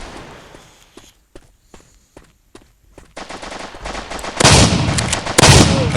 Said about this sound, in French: on va prendre le fusil à pompe